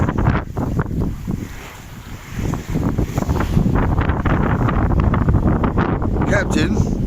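Waves wash and slap against a sailboat running downwind in the morning, while wind buffets the microphone in a constant loud roar that continues without a break.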